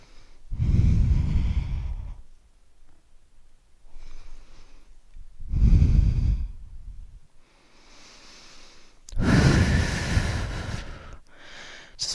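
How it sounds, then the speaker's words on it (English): Deep breathing while resting upside down during a full-body workout cool-down: three slow, heavy, close breath cycles, each a long airy inhale or exhale, separated by short quiet pauses, with no speech. "Couple of breaths."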